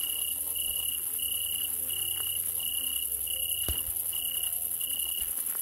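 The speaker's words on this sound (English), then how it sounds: "Man, them crickets are killing me." Crickets chirp steadily in the video game Animallica, giving a loud, regular pulsing trill that runs through the whole stretch over a constant hissy ambient bed, with no talking.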